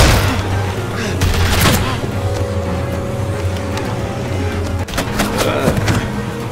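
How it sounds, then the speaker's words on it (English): Gunfire in The Walking Dead: A New Frontier video game, a burst of rapid shots early on and more cracks near the end over a low rumbling engine-like drone, loud and close. "Are they shooting at me now?"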